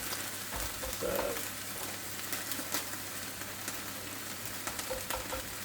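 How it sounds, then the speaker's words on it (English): Onions or spring onions frying in a pan on a gas hob in a home kitchen, a steady dense sizzle with occasional pops and light stirring, and a brief word from a man. "the idea is just to soften the onion, shallots, whatever you want to call them, spring onions"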